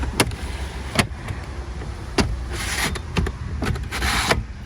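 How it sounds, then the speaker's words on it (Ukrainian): Electric sunshade blind on a 2019 VW Passat B8 2.0 diesel running in the cabin: a steady motor whir with several sharp clicks and knocks at the start and end of travel, close and moderately loud, with no talking. "Працює шторка на вході."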